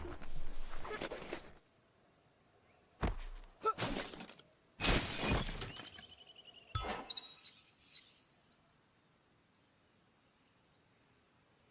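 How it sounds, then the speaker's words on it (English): A box is smashed apart in the Biomutant video game, with four loud crashing, shattering bursts separated by short pauses and faint chirping bird calls in the background. "You shouldn't worry about smashing up the box"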